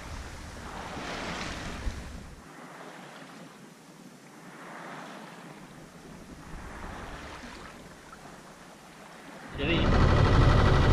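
A sailboat under sail off Corsica, with a steady wash of waves and wind rumbling around the microphone, swelling into a louder gust of wind and water near the end, with some faint voices.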